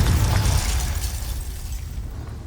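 A Confringo fire-spell explosion in Hogwarts Legacy, a loud full-band blast that decays into a roaring, crackling tail over a couple of seconds with no speech.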